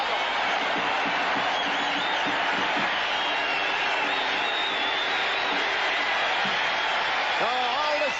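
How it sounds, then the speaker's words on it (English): A large stadium crowd at Lambeau Field cheers the Green Bay defense in a steady, loud roar that holds throughout, with faint whistles and shouts inside it. "So all the cheering is for the Green Bay defense here at Lambeau Field"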